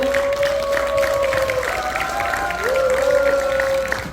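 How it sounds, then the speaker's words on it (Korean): Warm crowd applause welcoming a guest at a local gathering, a continuous wash of clapping and cheering from a room of people, with a steady tonal sound running under it. "우리 지한수 여사님을 여러분 따뜻한 박수로 맞으십시오"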